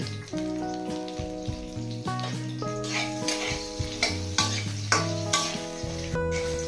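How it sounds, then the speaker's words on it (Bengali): Salted eggplant slices fry in oil with a crackling sizzle and occasional stirring, heard beneath prominent background music with a steady melodic line. "এবার বেগুনগুলো ভেজে নেবো"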